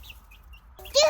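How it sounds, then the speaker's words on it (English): Backyard chickens cluck and peep softly nearby in brief scattered calls, ending in a louder squawk. "What are you doing down there, chickens?"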